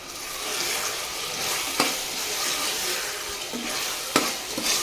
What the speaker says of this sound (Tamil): இப்போது தக்காளியை நல்லா வதக்கி விட்டுக்கலாம்